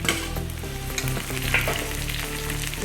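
Finely chopped tomato frying in a pan with onions and almonds for poha, a dense continuous sizzle with a few stirring scrapes, close and steady.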